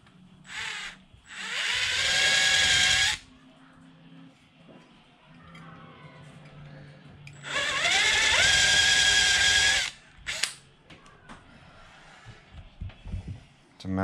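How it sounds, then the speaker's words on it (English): A power drill bores into mounting plates for a twin-motor ESC installation in two loud, whining bursts of a couple of seconds each, separated by quieter handling noises. "now drilling my plates"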